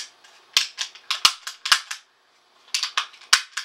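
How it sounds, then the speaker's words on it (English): An HK USP pistol dry-fired on a snap cap, with a series of sharp close metallic clicks and snaps in uneven pairs and clusters, and a brief pause partway through. "Pull the trigger a couple of times. Insert a snap cap if you want to."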